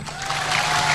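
Steady applause from an audience fills the clip, growing slightly louder toward the end, with a faint murmur of voices beneath.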